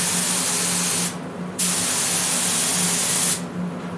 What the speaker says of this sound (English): I just want to spray this rail up here.